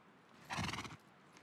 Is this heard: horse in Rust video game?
yes